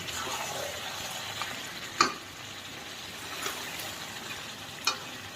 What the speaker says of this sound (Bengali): এত কষা রাখবো না, জল দেবো, একটু কষিয়ে নিই